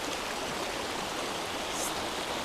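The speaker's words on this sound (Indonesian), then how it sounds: "air mengalir terlihat cukup keruh" Steady broadband rush of murky, muddy river water flowing after rain, continuous and fairly loud with no voices, filling the whole short stretch evenly.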